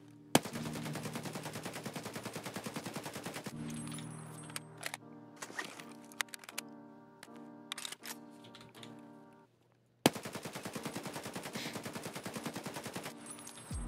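Rapid bursts of AKM rifle hip-fire in the game Escape From Tarkov, loud and close, in two long strings of automatic shots with a quieter stretch of scattered single reports and clicks between them.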